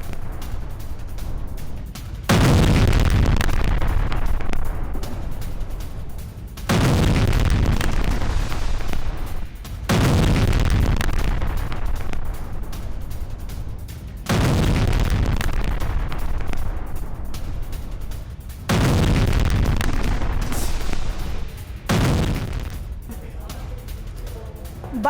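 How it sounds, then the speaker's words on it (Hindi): Hezbollah rockets exploding near Israeli soldiers on the Golan Heights, a series of about five heavy booms at irregular intervals, each a loud blast that decays into rumbling, with spoken narration running alongside. "सैनिकों के नजदीक गिरा हिजबुल्लाह का रॉकेट।"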